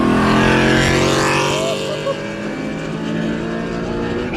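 A loud exhaust from a BMW E92 M3 roars during a canyon drive, a sustained engine drone that sweeps upward in pitch and then settles into a steady rumble, heard close from inside the car.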